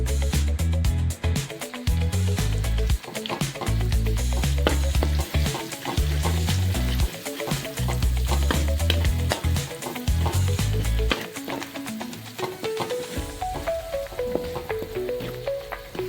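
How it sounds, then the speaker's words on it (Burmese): Pounded garlic, shallot and chili paste frying in hot oil in a pot for fish curry, a loud steady sizzle with crackling pops and occasional stirring, close up and without talk. "သူကလည်းပဲစီပူလာရင် ကြက်သွန်အဖြူနီချင်းလေးနဲ့ငရုတ်တီးအရောင်တင်မှုန်လေးထောင်းထားတာလေးကိုစီအိုးထဲထည့်ပြီးတော့"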